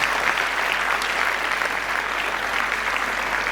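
Conference audience giving the organizers a big round of applause, a dense, loud, continuous roar of clapping from a full hall, steady throughout with no talk over it.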